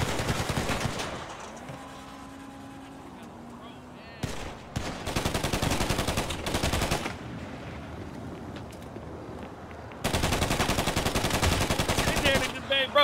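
Bursts of rapid automatic gunfire in a GTA RP game, with dense rattling volleys separated by short gaps and a quieter stretch carrying a droning engine tone, loud and close throughout.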